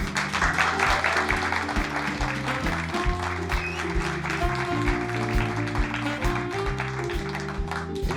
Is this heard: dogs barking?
no